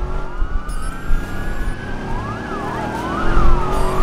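A loud police car siren in the video game Watch Dogs wails and yelps, its pitch sweeping up and down over a rumbling engine, with no talking.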